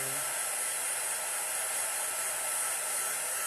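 A heat gun melting gold embossing powder on cardstock gives a constant, even hiss-like blowing roar from start to finish, close and unbroken, with no speech.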